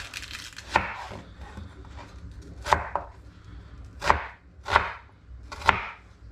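Onions and chillies being finely chopped with a knife on a board, five or six separate crisp thuds spaced about a second apart, close and fairly quiet, with no voices.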